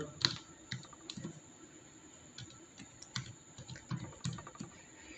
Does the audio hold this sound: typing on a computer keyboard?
yes